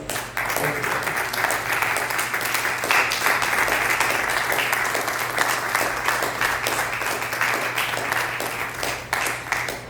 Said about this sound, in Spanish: ¿Cuánto le dan ese fuerte aplauso al Señor?